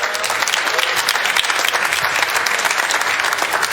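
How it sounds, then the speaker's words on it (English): A studio audience claps in steady, dense applause that fills the room at a constant loud level for the whole stretch, with no voices coming through. "Y'all can clap all y'all want to."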